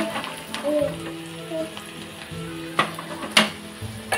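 Asafoetida, coriander seeds and garlic sizzle in hot oil as a tadka for Maharashtrian fried poha chivda, a steady close crackle with a few sharper spits and stirring clinks.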